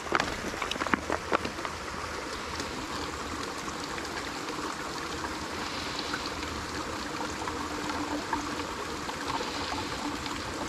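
Water from a squeezed filter bag runs into an empty bottle on the Appalachian Trail. A steady, close trickle continues without a break, with a few sharper spatters near the start. No voices are heard.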